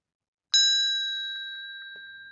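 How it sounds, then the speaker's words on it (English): A single bright bell-like ding chimes once as a notification when a render finishes in renderset, ringing out clearly and decaying slowly with a pulsing shimmer, with no talking. "we finished the render, we heard the bell sound"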